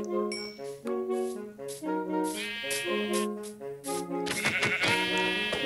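Sheep in a video game bleat repeatedly, a run of loud, close, wavering cries overlapping one another, with a few sharp clicks mixed in.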